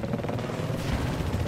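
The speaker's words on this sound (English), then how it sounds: "Transport chopper. It's down." A transport helicopter goes down in Battlefield 4, a dense rumbling roar of rotor and engine noise with gunfire-like crackle, loud and continuous with no voices.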